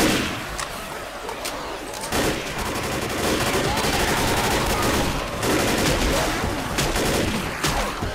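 Dense, continuous video game gunfire from Left 4 Dead as a player shoots at a Hunter, a steady rattle of rapid shots that holds through the whole stretch, with faint player voices mixed in.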